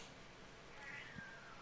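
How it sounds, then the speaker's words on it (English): A cat gives a single faint, brief meow partway through, with quiet background noise and no speech. "I forgot to mention the hounds found a cat."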